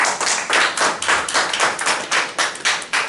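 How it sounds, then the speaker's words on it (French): Applause from the audience at a political assembly in Paris: dense, steady clapping that swells and eases in a regular rhythm, loud and close, with no voices over it. "Les applaudissements sont un peu timides"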